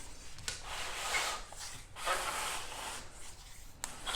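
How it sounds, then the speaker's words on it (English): An old garage door bottom seal being dragged out of its metal channel makes a continuous, close, rubbing scrape with a few sharp snaps along the way, steady and alone without speech. "Okay, so we got the seal fully removed."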